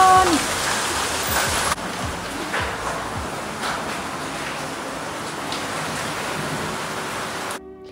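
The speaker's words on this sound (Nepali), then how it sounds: "अहिले त एकदमै ठुलो असिना पानी आएको छ" A heavy hailstorm with rain in Pokhara pours down as a dense, loud, steady roar of rain and hail striking surfaces, with scattered sharper impacts and no voices.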